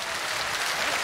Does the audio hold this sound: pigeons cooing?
no